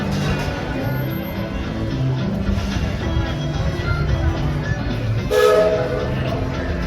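The Walt Disney World Railroad train in the Magic Kingdom rumbles low and steady on its tracks, with a brief brighter whistle-like burst near the end and faint voices in the background.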